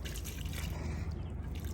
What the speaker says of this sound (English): I'll just take and I'll pour this oil-based chemical all over it